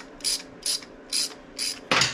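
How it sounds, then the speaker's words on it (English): Loosening Allen screws with a 3/16 Allen wrench on a Harley-Davidson Sportster charging system cover, giving five evenly spaced short ratcheting clicks, close and crisp, with no talking. "So, we're gonna take out all these Allen screws. It takes a 3/16 Allen wrench."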